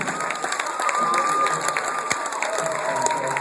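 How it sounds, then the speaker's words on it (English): An audience at a school hypnotist show claps and cheers for a volunteer, with steady applause, shouts and whoops filling the room throughout. "Let's give him a big round of applause."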